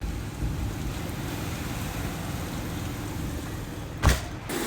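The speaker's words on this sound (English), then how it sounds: "It was windy, the rain was blowing super hard, tents were flying around" A strong wind and blowing rainstorm roars as a broad, steady rush at a drag racing event, with one brief louder gust or thump near the end and no talk.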